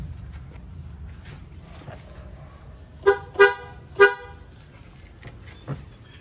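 An old Pia aftermarket horn on a Honda Civic honks three times in quick succession, a bright, nasal, loud toot nearby, with faint car sounds and a softer beep near the end.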